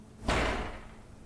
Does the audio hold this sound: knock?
yes